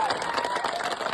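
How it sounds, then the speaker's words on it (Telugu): An audience at a devotional Ayyappa program claps in a brief, dense burst of applause that stays steady and fairly close. "ఒక్కసారి మనస్ఫూర్తిగా చప్పట్లు కొట్టాలి అందరూ కూడా."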